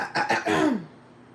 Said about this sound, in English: I've been having to clear my throat a lot